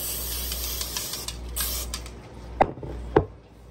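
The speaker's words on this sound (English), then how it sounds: "And I'm going to generously" A spray bottle or cooking spray can is pumped over food on a kitchen counter, giving two sharp, short hisses close by after a stretch of steady low background hum.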